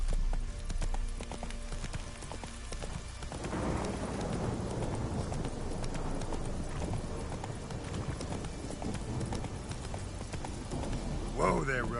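Horse hooves gallop in The Witcher 3, a steady clip-clop running under a voice urging the horse on, with a brief whinny near the end.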